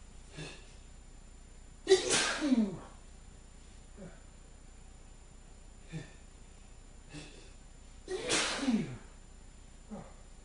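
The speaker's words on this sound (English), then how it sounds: "I'm going to sneeze now." A man sneezes twice, loud and close, with faint short breaths and sniffs between them in an otherwise quiet room.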